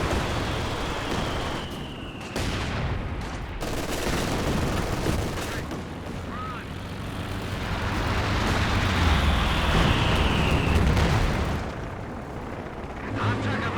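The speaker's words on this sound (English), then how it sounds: "The Allied artillery stacking up eventually." Allied artillery barrage in Company of Heroes 2, a 3v3 battle at a station: a continuous rumbling wall of shelling and gunfire, swelling louder toward the middle, with sharper impacts scattered through.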